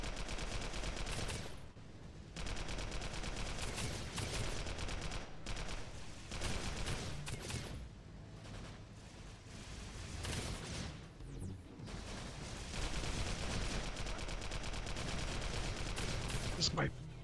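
The basic gun in the online shooter Global Agenda fires in sustained, dense bursts of rapid shots, loud and continuous with only brief breaks.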